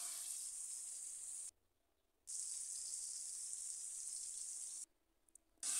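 Pumpkin pieces sizzle steadily in a frying pan as salt is stirred in, a faint continuous hiss that briefly drops out twice.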